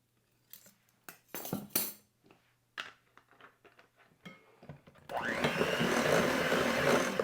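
A few clinks and taps of bowl and utensils, then an electric mixer starts and whirs steadily and loudly, blending powdered sugar with vanilla extract into frosting for a chocolate cake.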